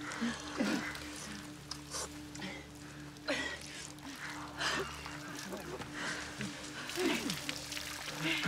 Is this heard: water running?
yes